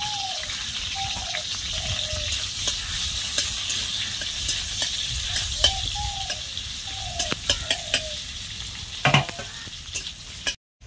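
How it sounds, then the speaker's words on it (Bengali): Onion and chilli frying in hot oil in a wok, giving a steady close sizzle with occasional crackles and utensil clinks, and a few faint chirping tones over the top. "দিয়ে এবারে কড়াইয়ের মধ্যে পেঁয়াজ আর লঙ্কাটা ছেড়ে দেবে।"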